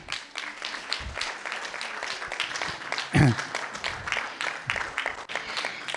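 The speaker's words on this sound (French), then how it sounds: "faire une salve d'applaudissements pour Colette Barbier et pour l'équipe de la" Audience applause at a French cultural event for a foundation's team, a sustained patter of many clapping hands that fills the whole stretch, with a brief louder burst partway through.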